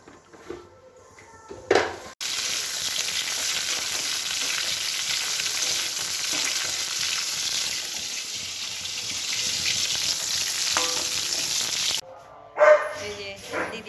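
Chana dal tempering in a hot pan while Ashtami festival food is cooked: a loud, continuous frying sizzle runs for about ten seconds, with brief clatter and faint voices just before and after.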